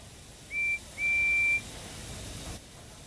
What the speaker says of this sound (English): Just then, the guard's whistle blew, and the two engines set off.